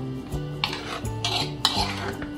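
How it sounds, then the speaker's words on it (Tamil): Tomato chicken curry being stirred in a pot, a utensil scraping and clinking against the metal in quick repeated strokes, close and clear with no talking. "நல்லா மிக்ஸ் பண்ணி விட்டுருங்க."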